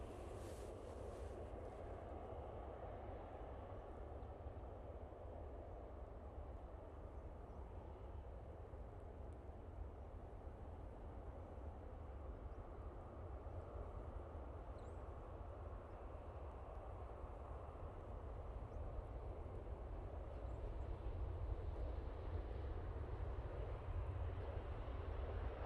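Finnair jet airliner in One World livery arriving at an airport, a distant, faint, steady engine rumble that swells slightly toward the end, with no talking.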